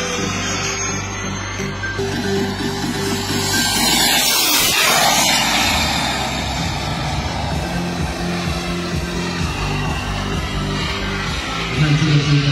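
A sport aerobatic propeller plane flies a split-S fighter-jet maneuver, its engine drone building to a close, loud pass near the middle before easing off into a steady hum.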